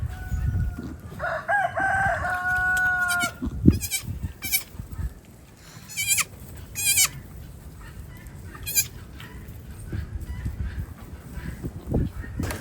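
Several goats bleat in a barnyard where newborn kids have just arrived, their harmonic calls rising in repeated bursts between rooster crows and hen clucking, fairly close over a steady farmyard background.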